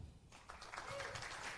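An audience applauds a singer at a wrestling music event, a broad wash of clapping that swells after a brief pause and carries steadily, with a voice talking over it.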